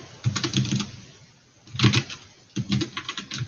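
Clicking computer keyboard typing in bursts, with a pause in the middle, fairly close and clear, no talk over it.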